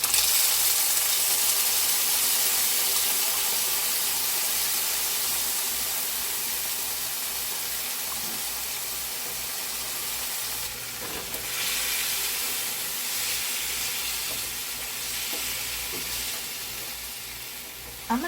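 Beans dumped into well-heated oil for refried beans, hissing and sizzling as a loud, steady fry that slowly eases, with occasional stirring scrapes and no talk.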